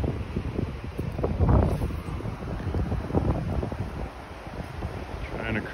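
Breezy wind buffeting the microphone in gusts beside a river while fishing in the foothills, rough low rumbling that swells and fades over a few seconds without speech.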